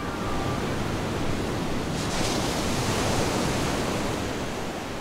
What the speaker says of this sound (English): The waves were getting so big.